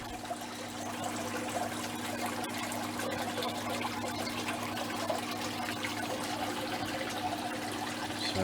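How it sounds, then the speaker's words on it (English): Water carrying a suckerfish is poured into an aquarium, a continuous splashing trickle and gurgle that holds steady throughout. "we're going to just go ahead and pour it in"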